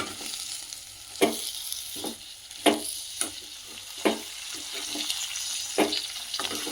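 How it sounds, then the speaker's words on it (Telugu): Tomatoes tossed into a pan of frying green chillies for a tomato chutney, a steady sizzle broken by several sharp spatula scrapes and knocks as the mixture is stirred, close and alone without talk. "ఇప్పుడు పచ్చిమిర్చి వేగినాయి కదా ఇప్పుడు టమాటా వేస్తున్నాం అంతా మంచిగా కలుపుకుందాం"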